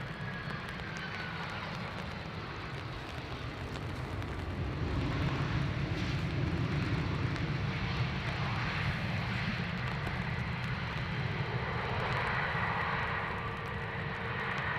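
An airliner with large winglets at Dublin Airport fills the air with a steady jet-engine roar that swells slightly and holds as a broad, continuous rumble from a moderate distance.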